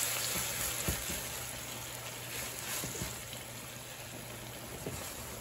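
White wine cooks off in a hot pan on high heat for shrimp scampi, giving a steady, moderately quiet sizzle and bubbling throughout, with faint clinks and no talking.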